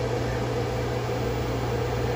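A 600 watt Commercial Chef microwave oven running on solar power, giving a steady, even hum and whir of the magnetron and fan, continuous and close with no change in level.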